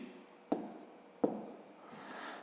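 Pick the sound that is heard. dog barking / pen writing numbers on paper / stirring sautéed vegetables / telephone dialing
pen writing numbers on paper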